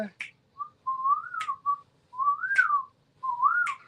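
A clear, melodic whistle or flute line from a song carries a tune in rising and falling phrases, with short breaks between them, over a faint low background.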